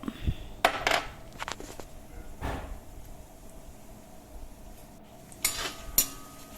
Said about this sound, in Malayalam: ആദ്യം നമുക്ക് തേങ്ങാക്കൊത്ത് നെയ്യിൽ മൂപ്പിച്ച് വറുത്ത് കോരാം.